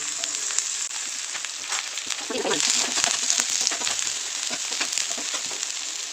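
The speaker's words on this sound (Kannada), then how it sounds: "ನೆಕ್ಸ್ಟ್ ನಾವು ಇದಕ್ಕೆ ಈರುಳ್ಳಿನ ಆ್ಯಡ್ ಮಾಡೋಣ. ಈರುಳ್ಳಿ ಜೊತೆಗೆ ನಾನು ಚಿಲ್ಲಿ ಕೂಡ ಆ್ಯಡ್ ಮಾಡ್ತಿದ್ದೀನಿ." Chopped onion and green chilli fry in hot oil in a pan, a loud, steady close-up sizzle with occasional crackles and light stirring scrapes that swell briefly midway.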